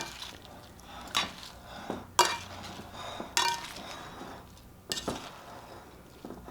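Salad of sardines and olive tapenade being tossed with extra virgin olive oil: a handful of sharp utensil clinks and scrapes against a bowl, spaced irregularly over soft wet rustling, close and fairly quiet.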